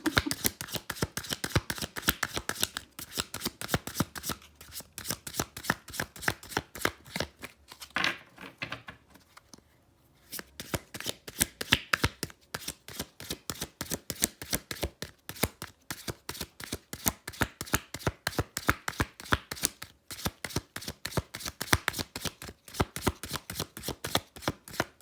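A deck of tarot cards is shuffled by hand at close range, a long run of rapid, rhythmic riffling snaps and taps with a brief pause near the middle.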